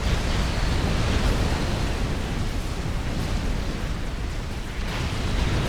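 Many strategic bombers drop their loads in Forged Alliance Forever, making a continuous dense roar of overlapping explosions that rumbles on evenly like heavy surf for several seconds.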